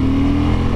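A 2023 Suzuki V-Strom 1050 motorcycle in third gear and A power mode, slowing toward 40 mph, gives a brief, loud, steady engine drone with a firm low hum, heard close from the rider's position.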